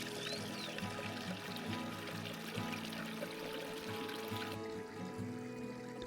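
A small stream flows close by on a mountain plateau, giving a steady, continuous pouring and trickling wash of water that stays even throughout with no pauses.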